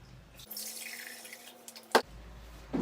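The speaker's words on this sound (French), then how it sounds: "Maintenant, je mets 800 g d'eau dans le bol." Water runs steadily from a tap into a bowl for rinsed sushi rice, a soft close splashing stream that stops abruptly, followed by a single sharp knock.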